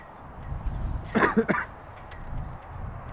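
A pair of short, harsh coughs close to the mic, around a second apart, standing out against a quiet background hum.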